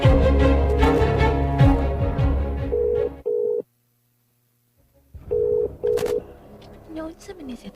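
Cellphone dialing a call that goes unanswered: a burst of voices and music gives way to steady repeated ringback tones with a silent gap between, then more tones and short beeps.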